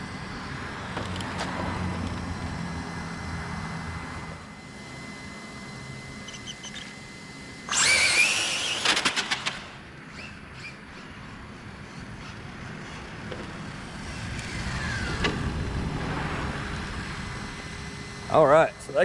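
Losi 22S RC car with a Maclan ESC and Motiv 3.5 turn motor accelerating hard, a sudden loud high-pitched electric whine bursting for a couple of seconds amid quieter background noise and some talk.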